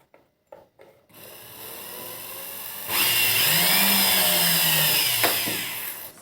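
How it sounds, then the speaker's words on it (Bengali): A small jewellery polishing motor whirs up to high RPM, a steady close whine that jumps louder about halfway through and holds with a rising pitch, after a few clicks at the start. "মোটরটা হাই আরপিএমে ঘুরছে"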